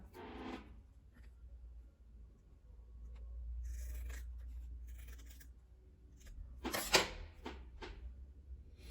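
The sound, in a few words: cutting a folded fabric square for patchwork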